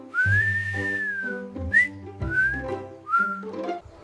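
Playful whistled tune from a cartoon lion cub, a few short rising and falling phrases with brief gaps, set over a soft musical background.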